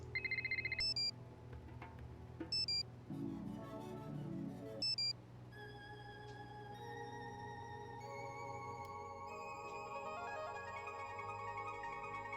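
A phone plays a series of electronic ringtone previews, bright beeping tones and short melodic chimes that shift from one pattern to another. Quiet and close, with no talking.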